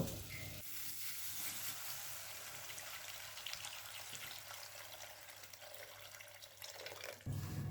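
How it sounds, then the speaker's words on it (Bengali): Water is poured into curry masala frying in a pan for a paneer, potato and cauliflower curry, giving a steady, fairly quiet sizzling hiss that persists alone for several seconds before cutting off near the end. "এবার এর মধ্যে পরিমাণ মতো জল দিয়ে দেব"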